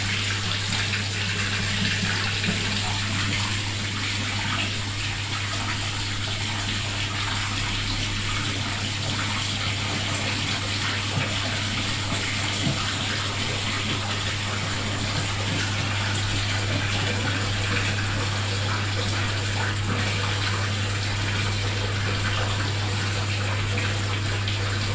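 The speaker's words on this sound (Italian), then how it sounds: "Carico acqua del primo risciacquo." A W1625 washing machine fills with water for the first rinse of a jeans load, a continuous gushing inflow over a steady low mechanical hum, unchanging for the whole stretch.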